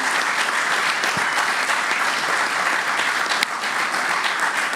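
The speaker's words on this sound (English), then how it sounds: "Let's give that round of applause." A crowd applauds continuously at an outdoor announcement of elite golf championships at Bethpage, a full, even wash of clapping that holds steady throughout with no break.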